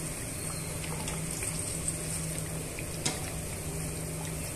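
Potato bajji deep frying in hot oil on a medium stove, a steady close bubbling and sizzling hiss with a couple of faint clicks from turning the fritters.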